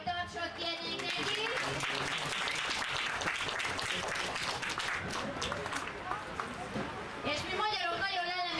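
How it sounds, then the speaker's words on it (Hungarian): A crowd applauds a three-year-old cold-blood horse at an international log-pulling contest. The clapping is steady and dense, with loudspeaker talk and crowd voices over it. "egy nagy tapsot kérnék neki"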